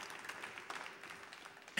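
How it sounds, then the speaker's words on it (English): An audience applauds after a live song at a small music performance, scattered clapping in a steady patter that swells briefly at the end. "Give yourselves a round of applause"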